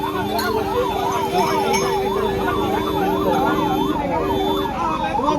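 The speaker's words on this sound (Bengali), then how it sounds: "দেখতে পাচ্ছেন অ্যাম্বুলেন্স আটকে গিয়েছে, রেল গেট পড়েছে সেই জন্য" An ambulance stuck at a lowered railway level crossing in Tarakeswar sounds its siren, a loud, close, continuously rising and falling wail over busy street and crowd noise.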